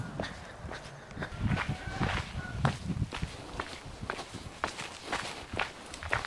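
Footsteps crunch over rocks on an old road near a former temple route in Surin, Thailand, a steady walking rhythm of close, distinct steps with some wind and faint background noise.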